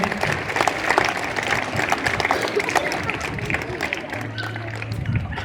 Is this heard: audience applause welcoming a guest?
yes